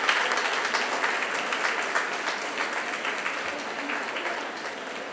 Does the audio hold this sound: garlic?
no